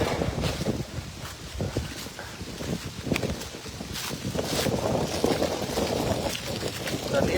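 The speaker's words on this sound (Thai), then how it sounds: "ลมก็ยังแรงอยู่นะ ลมยังแรงฝนตกแถววังเหนือ" Strong wind gusting during a rainstorm in the Wang Nuea area, a steady, rough roar with buffeting on the microphone, while people talk over it.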